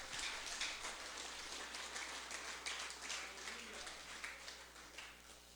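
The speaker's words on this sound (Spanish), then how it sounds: "Denle un aplauso al Señor" A congregation at a ministers' church convention gives sustained applause to the Lord, a dense, even wash of many hands clapping heard from within the crowd.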